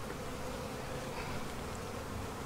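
Honey bees buzz during a bee barn inspection before harvest, a dense, steady hum close by with no pauses.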